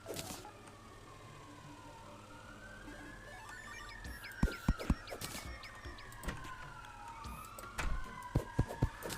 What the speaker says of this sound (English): Oh hey, sirens.